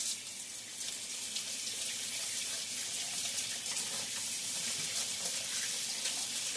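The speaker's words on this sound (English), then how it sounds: "let me wash my hands now" Tap water runs steadily into a sink while hands are washed beneath it, a close, constant splashing hiss that lasts throughout.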